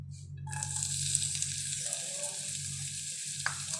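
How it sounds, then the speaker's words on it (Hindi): Garlic frying in about two tablespoons of hot oil gives a steady, close hiss and crackle with a low background hum, and a brief clink near the end. "फ्राई कर लेती हूँ। मैंने लहसुन भी साथ डाल दिया"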